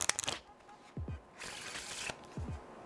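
A deck of playing cards is riffle-shuffled up close: quick flicks and taps, then a brisk ruffling burst, a bridge-down thump pair, and another short ruffle.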